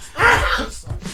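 A single short sneeze in a radio studio during a morning talk show, a quick burst with no talk over it.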